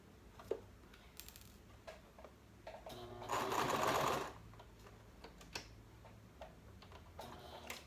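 A sewing machine stitches elastic onto a medical mask in one steady, faint whirring run of about a second. Soft ticking and clicking of handling come before and after it.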